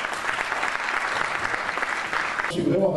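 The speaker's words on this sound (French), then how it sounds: "je vous demande de les applaudir très très fort" An audience applauds loudly at a French school awards ceremony honoring laureates, a dense steady clapping that carries through and then thins near the end as a voice begins speaking.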